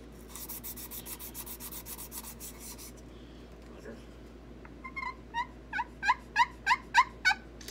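A roughened striker scrapes across a turkey pot call in a homemade build, with steady rasping rubs at first, then a run of sharp, rising yelps getting louder toward the end, close and without speech.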